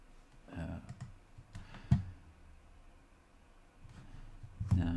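A few scattered mouse clicks while rendering a scene in Fusion 360, soft and close, separated by quiet pauses with light handling noise between them.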